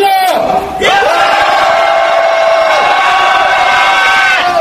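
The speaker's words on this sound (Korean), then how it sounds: "함성 3초간 질러!" A rally crowd at a political protest lets out a sustained roar of shouting and cheering, loud and close, filling several seconds after a brief voice at the start.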